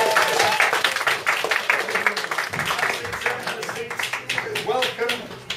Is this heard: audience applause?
yes